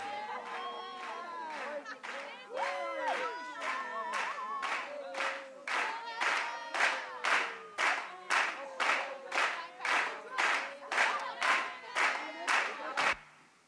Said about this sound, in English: So that's just a bunch of people clapping at once, and I looped it so it's on the beat.